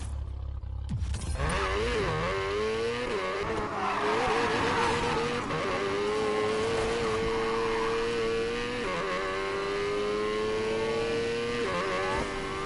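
Race car engines roar and rev continuously in the video game Need for Speed Payback, a loud sustained whine rising and falling through gear changes with tire noise, starting after a brief impact.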